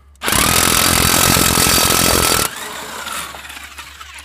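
A power tool, likely an impact wrench, runs loud and steady for about two seconds while removing the final U-bolt nut on a Jeep Cherokee XJ rear axle, then cuts off, leaving quieter garage noise.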